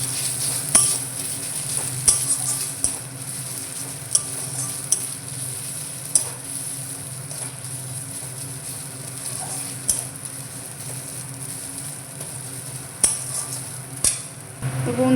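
Ginger, garlic and onion paste stir-fries in a pan with a soft constant sizzle, punctuated by sharp spoon taps and scrapes against the metal at irregular intervals, close by and without speech.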